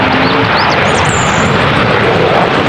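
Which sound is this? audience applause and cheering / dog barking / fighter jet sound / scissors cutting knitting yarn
fighter jet sound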